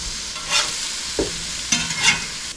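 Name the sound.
sausage sizzling and being turned in frying pan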